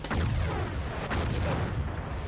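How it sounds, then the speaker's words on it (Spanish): Constant loud gunfire and artillery blasts in a World War II battle at Kursk in the Battlefield 1942 video game, booming shots overlapping without pause. "Que me están disparando"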